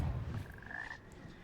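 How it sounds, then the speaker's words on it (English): Frogs croaking, one drawn-out rasping call rising to a brief peak then fading, faint and set against a low murmuring background. "I don't like these frogs because of the noise they make."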